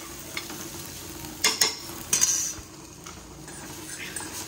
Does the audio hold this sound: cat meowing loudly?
no